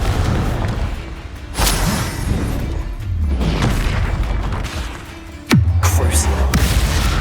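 Confringo blasting spell from Hogwarts Legacy: booming magical blasts over a dense, rumbling game soundscape, with one sharp, loud impact late on followed by a lingering low roar.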